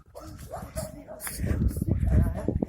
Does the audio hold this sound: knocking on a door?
no